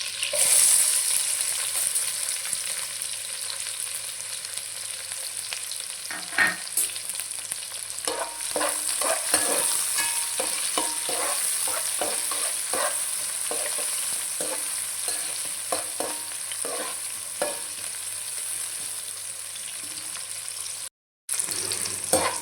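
Onions and fenugreek leaves frying in oil for a function-style chicken fry, giving a steady close sizzle with scattered scraping stirs through the middle and a brief dropout near the end.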